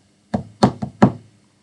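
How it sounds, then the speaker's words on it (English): Four hollow knocks on a wooden door, loud and close, in a quick uneven rhythm with the third blow lighter than the others, in an otherwise silent room. "Soon there came another knock on the door."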